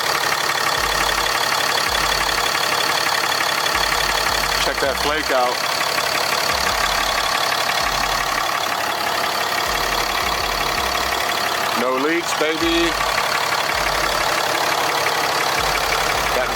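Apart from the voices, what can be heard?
truck engine idling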